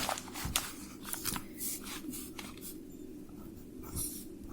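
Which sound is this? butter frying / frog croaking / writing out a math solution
writing out a math solution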